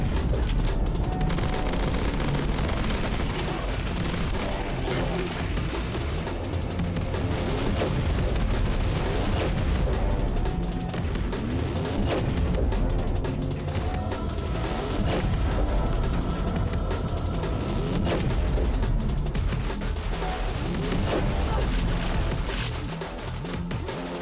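Turrets in the Sprawl game fire constantly, with dense, rapid gunfire and booming impacts overlapping nonstop at close range for the whole stretch, with no talking.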